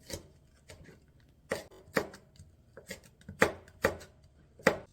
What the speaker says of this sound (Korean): 씨앗을 뺀 후에 어슷썰기로 얇게 썰어줍니다